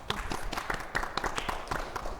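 A small audience claps for a panel at a minority business ownership event, a short burst of scattered, close applause with uneven individual claps and no voices.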